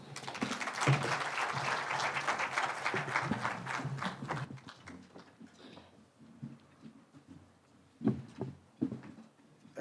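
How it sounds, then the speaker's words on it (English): A standing audience at a meeting with UN agencies in Nairobi claps for the Deputy President, dense applause for about four seconds that fades into a few sparse claps and shuffling. "Please be standing and let us give him a hand clap. A clap, please."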